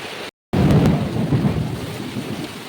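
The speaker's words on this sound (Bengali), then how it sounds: "বাইরে জমজমিয়ে বৃষ্টি দিচ্ছে" Heavy rain pours steadily outside during a thunderstorm, with a deep rolling rumble of thunder, loud and continuous after a brief silent gap at the start.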